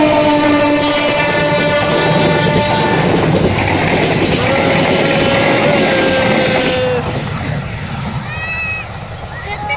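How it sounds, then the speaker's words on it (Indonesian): A passenger train rolls past a rubber plantation in Indonesia, loud and close, with sustained horn blasts over clattering wheels that fade toward the end while people talk nearby. "Oh, ini kereta api penumpang, kereta api si Oren."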